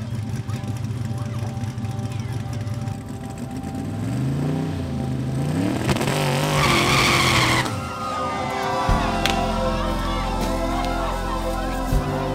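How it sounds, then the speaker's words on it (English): A 2,600 hp street race car doing a burnout at a gender reveal, tires squealing loudly against a roaring, revving engine that rises and shifts pitch, with crowd noise throughout. "Well, the burnout is going to be low."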